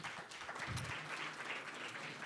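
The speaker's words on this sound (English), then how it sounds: "A round of applause for Ansel." An audience at a blockchain supply-chain media event gives a round of steady applause, heard fairly faint and distant as an even patter of clapping that continues throughout.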